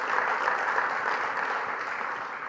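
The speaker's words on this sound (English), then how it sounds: "let's round of applause." An audience at a business talk applauds, a fairly quiet and even wash of clapping lasting a couple of seconds with no talking.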